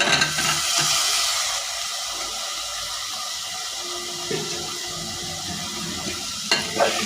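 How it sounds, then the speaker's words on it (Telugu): Cabbage pieces hit a hot pan, a loud, dense hiss and sizzle that stays constant throughout, with a faint clink or two near the end and nobody talking. "క్యాబేజీ ముక్కలు వేసేసుకోవాలి"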